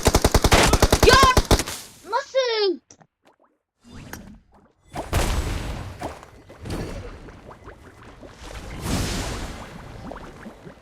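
A shooter video game fires in bursts: rapid machine-gun rattles at the start, then whooshes, thuds and scattered shots follow. There is faint game noise between them, and no one talks over it.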